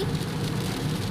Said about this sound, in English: It's raining, man, like that.